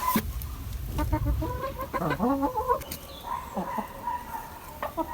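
Hens cluck repeatedly at close range while waiting for a feed of wheat grain in a farmyard, a steady run of short calls with no talk.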